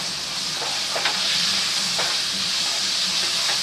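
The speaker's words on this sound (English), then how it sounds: "I'm just going to drop my tomatoes in" Roma tomatoes dropped into a hot cooking pot for a vegetarian red beans dish, giving a steady steamy hiss and sizzle throughout with a few brief sputtering pops, close by and with no talking.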